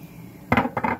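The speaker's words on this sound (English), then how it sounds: "So I'm going to swirl around the pan a couple of times." A pan swirled on a stovetop during cooking gives two short, close metallic scraping sweeps, each lasting about a fifth of a second, with quiet background in between.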